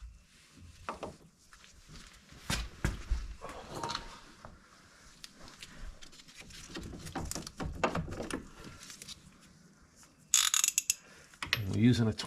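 Ratchet wrench loosening the brake caliper bolts on a 2000 VW T4 van during suspension work, heard as bursts of close, quiet clicking with metallic handling noises and a louder clatter near the end.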